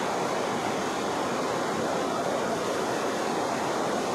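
The lower section of Kempty Falls, a waterfall with cold water, gives a steady, dense rush of falling and splashing water, constant and fairly loud throughout, with no voices.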